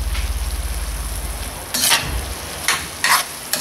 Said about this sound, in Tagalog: Pwede na nating haluin.